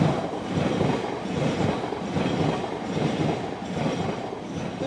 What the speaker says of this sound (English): Almost silent, this train.